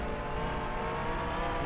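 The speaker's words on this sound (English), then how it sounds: "You can hear the car pretty loud." Race car engine from a racing video game during an all-star broadcast event, a steady loud droning roar with sustained harmonic whine, continuous and close throughout with no talk over it.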